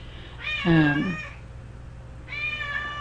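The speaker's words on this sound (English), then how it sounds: "sorry, that's my cat." A cat meows loudly and close by, a drawn-out cry followed after a pause by a second, thinner meow.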